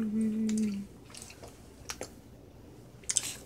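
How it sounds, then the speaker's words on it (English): Chewing on edible slime close to the mouth gives soft, wet, intermittent squishes and clicks, faint and irregular, after a short hum at the start. "I'm chewing like a cow"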